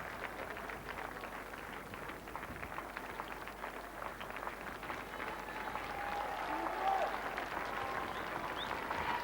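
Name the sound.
cricket crowd applause for a batsman's half-century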